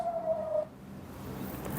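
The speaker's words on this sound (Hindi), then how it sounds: "सायरन बज रहे हैं" A single steady air raid siren tone in the West Bank holds for about half a second, then cuts off, leaving a dull low rumble behind.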